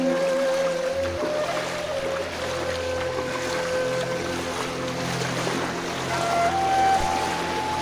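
Floodwater from a released flow out of Bhutan rushes steadily through the Anandabazar area of Tamulpur, a dense continuous roar with a faint droning hum running underneath throughout.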